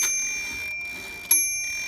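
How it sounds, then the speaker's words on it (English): 1950 Royal KMG manual typewriter ringing its loud bell, one bright ding followed by a sharp carriage clack, preceded by faint mechanical ticking. "You got nice loud bell, and I love the sound of the carriage moving on these old Royals."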